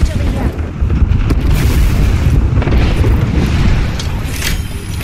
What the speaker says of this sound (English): Look out, grenade. Grenade.